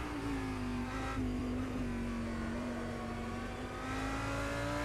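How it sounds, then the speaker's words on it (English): An Audi GT3 race car engine in rFactor 2 drones steadily at high revs with a sustained tonal whine, pitch shifting slightly as it holds speed around Silverstone, loud and continuous with no voices. "Sound-wise, I'm totally down for the Audi, since that is a real blast."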